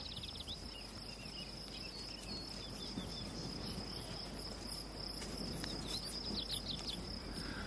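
Mormon crickets chirp in a dense, continuous high trilling chorus that stays steady throughout, with no voices.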